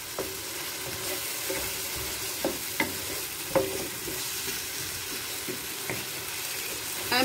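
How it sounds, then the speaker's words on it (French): Spices with turmeric stirred in a frying pan, a steady low sizzle running throughout with a handful of sharp utensil scrapes and taps against the pan. "Je mélange entre temps pour pas que mes épices se brûlent"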